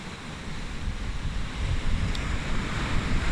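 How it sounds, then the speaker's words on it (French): Steady roar of ocean surf mixed with gusting wind buffeting the microphone, a continuous broad wash of noise with no voices. "Il se peut que vous entendiez le vent, en plus de la mer."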